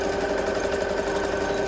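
A sewing machine back stitches through the fabric of a drawstring backpack, a steady close-up mechanical hum holding at an even level for the whole short stretch, with no voices.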